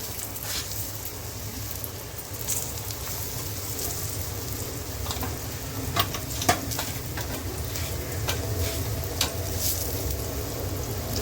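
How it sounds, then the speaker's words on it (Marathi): Brinjal slices coated in a rice flour and semolina mix fry steadily in a pan, a continuous close sizzle with scattered pops and a few louder crackles, no talking. "हे काप त्याच्यात बुडून फ्राय करायला टाकते"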